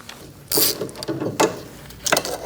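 Locking pliers are released from a rear sway bar link on a 2000-2006 Mini Cooper, giving a few loud close metallic clacks and ratcheting clicks in quick succession.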